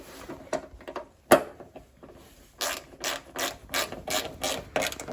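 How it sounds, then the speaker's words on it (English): A ratcheting wrench snugs up bolts on a carbon wing fitted to a BMW F34 328i GT, with a few scattered clicks followed by quick bursts of rapid ratchet clicking, close and crisp, with no talking. "Right now, I'm going to actually use the wrench that we had."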